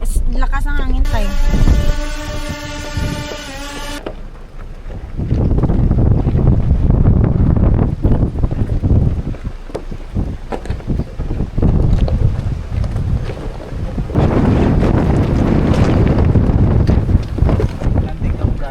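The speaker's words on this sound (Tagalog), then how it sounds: "Landing muna kasi ang lakas ng hangin." Strong wind buffets the microphone of a drone flying over an open coastal spot, a loud, roaring rumble that surges and fades in gusts, with people talking over it and a brief electronic chime at the start.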